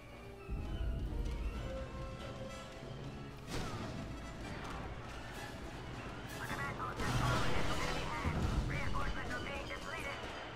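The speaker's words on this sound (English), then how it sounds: "Did my explosion not do anything then?" Explosions and gunfire in the Star Wars Battlefront video game, with several sharp crashing blasts over a busy battle din and a louder burst toward the end.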